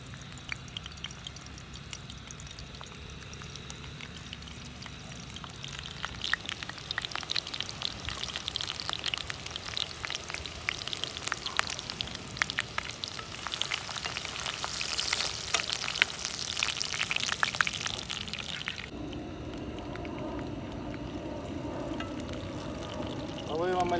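Onions fry in a brand-new frying pan with a soft sizzle that swells into a loud, crackling spatter midway, then drops to a quieter hiss.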